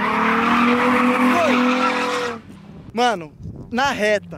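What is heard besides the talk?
Nissan 350z drifting, tires skidding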